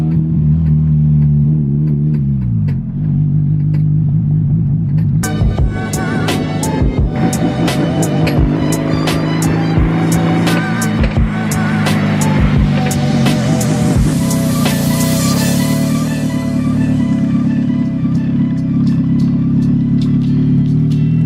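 Honda Civic EG hatchback running without an exhaust and needing a tune idles with a loud throbbing drone, then revs and bangs repeatedly with sharp popping cracks as it moves, raw and close with no talk.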